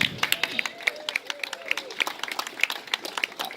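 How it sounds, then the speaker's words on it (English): Audience at a festival poster unveiling event gives a round of applause, heard as a sparse, moderately quiet patter of individual claps with some crowd murmur underneath. "Let's give them a round of applause."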